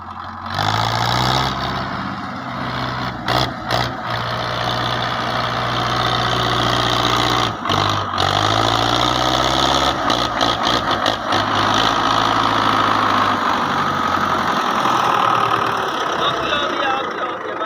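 A tractor engine runs steadily and loud throughout, a low idling rumble with brief dips in level, while people talk faintly in the background.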